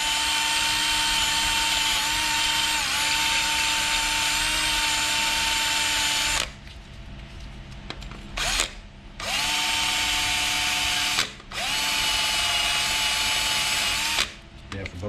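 A wire wheel on a power tool grinds rust off a Jeep Grand Cherokee brake rotor, a loud, high steady whine in long bursts with brief pauses between passes, close up.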